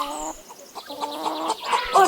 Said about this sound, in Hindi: लोमड़ी ने मुर्गी पर झपटा मारा, लेकिन मुर्गी झट से उड़ गई